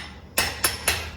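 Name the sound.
hammer flattening a brass or steel joint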